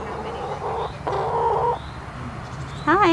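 Several chickens cluck and call nearby in short bursts, with a higher squawking note at the end over a quiet outdoor background.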